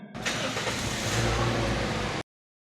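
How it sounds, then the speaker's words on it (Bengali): A Toyota Runx car engine cranks and catches, then runs with a steady, close mechanical drone that holds evenly for about two seconds before cutting off abruptly; no voices are heard over it. "এখন আমি গাড়িটি স্টার্ট দিচ্ছি আপনারা জাস্ট ইঞ্জিনের সাউন্ড একটু নোট করবেন"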